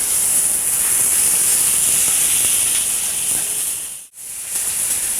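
Meat on the bone sizzling in a hot pan just after being flipped, a steady loud hiss that continues almost unbroken, with one brief dip near the end before resuming.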